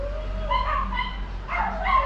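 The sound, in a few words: neighbor's dogs barking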